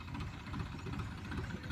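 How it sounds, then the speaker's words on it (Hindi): A tractor engine rumbles close by with a steady, throbbing low chug, loud and continuous through the short stretch, with no voices over it. "देखो अभी ये ट्रैक्टर जा रहा है"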